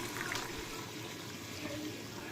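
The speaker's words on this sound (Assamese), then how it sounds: "এতিয়া মা পানীখিনি দি লৈছে মাংসত" Water pours steadily into a pot of simmering chicken nearby, a soft continuous splashing and bubbling with faint voices in the background.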